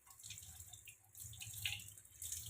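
Water runs and drips over hands as hair dye paste is washed off at a sink, a soft, close splashing with small irregular drips and no talking.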